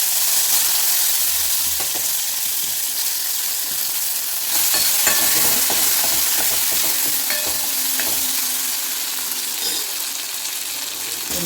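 Tomatoes sizzle and hiss in hot oil after asafoetida is added, with a spoon stirring and scraping the pan in irregular bursts, close and fairly loud.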